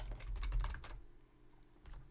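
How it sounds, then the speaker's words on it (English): Keys clatter in a quick, dense burst of typing on a computer keyboard, then pause, then resume with a few more strokes, close and soft. "And now I can start typing here."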